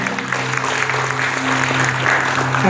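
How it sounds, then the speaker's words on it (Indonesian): Guests at a wedding ceremony, gathered as the groom lifts the bride's veil, clap continuously and moderately loud, with a sustained tone and faint murmur of the crowd underneath, growing slightly stronger toward the end. "Berikan tepuk tangan aplaus yang meriah."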